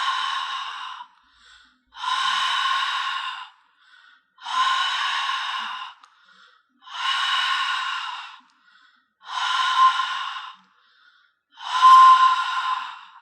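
Six slow, steady ujjayi breaths with the tongue raised, a hushed, throaty hiss, evenly spaced with short pauses between, close and clear with no talking.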